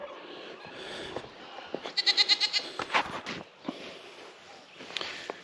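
Goats bleat repeatedly on a farm, a run of close, loud calls in the middle with fainter bleats and rustling around them, over steady outdoor background noise.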